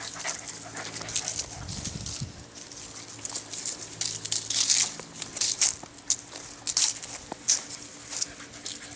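A puppy makes small whimpering, snuffling noises nearby, with scattered crunching and pattering sounds close in.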